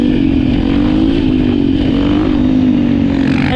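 A KTM SMR 450 supermoto engine drones steadily up close, revving with a rough, buzzing tone that rises slightly near the end.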